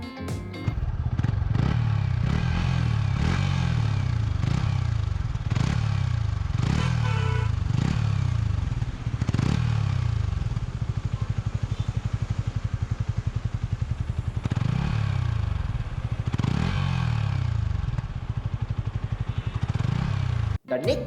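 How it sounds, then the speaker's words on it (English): A Yamaha MT-15 155cc motorcycle idles and revs repeatedly up close, its exhaust burbling with rhythmic throttle blips rising and falling throughout. "So right now let's hear the exhaust note of this bike."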